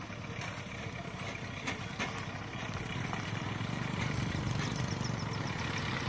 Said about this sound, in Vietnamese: Xem chiếc máy cày kia nó chạy đi